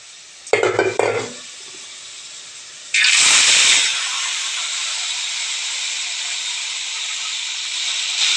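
A pressure-cooked whole chicken is lowered into hot oil, setting off a loud burst of hissing and sizzling that settles into steady frying, after an earlier brief clatter of pan and utensil sounds.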